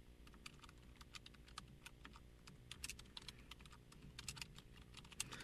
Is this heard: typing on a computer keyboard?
yes